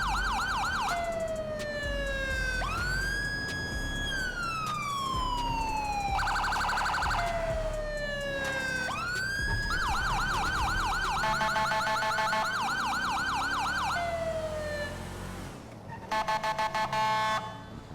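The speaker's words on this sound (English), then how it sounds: "here's my new siren. It is a Whelen" A Whelen Core police siren in a GTA 5 Texas DPS vehicle mod cycles through a long rising-and-falling wail, rapid yelps and fast warbling phaser tones, loud and continuous with no voices.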